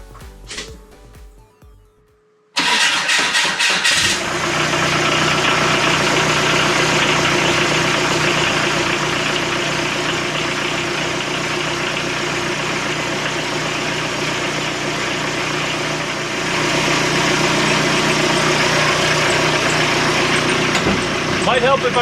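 Diesel engine of a right-hand-drive TJ Jeep Wrangler starts after a quiet pause and settles into a steady, loud, close idle that holds with a slight rise near the end.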